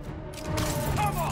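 A short, sharp burst of gunfire from the Marvel's Spider-Man video game cracks out amid voices, lasting only about a second.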